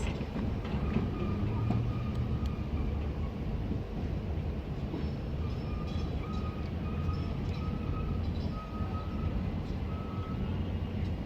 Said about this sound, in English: This will form our final train of the day as it departs off to Sheerness.